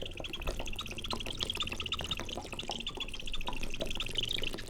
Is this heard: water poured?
yes